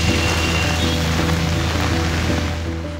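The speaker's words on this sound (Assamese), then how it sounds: "মঙলবাৰে নামি অহা এজাক বৰষুণে সলাই দিছে অসমৰ আও-হাৱা" Steady rain falling in Assam makes a dense, even hiss that holds at a constant level throughout, with a faint sustained tonal hum running underneath.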